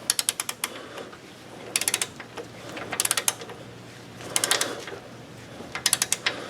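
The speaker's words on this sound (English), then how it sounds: "let's get the torque wrench on here" Torque wrench ratcheting on rear suspension bolts of a 2004-07 Buick Rainier or Trailblazer during a coil spring swap, five bursts of rapid clicking separated by short pauses, close and crisp.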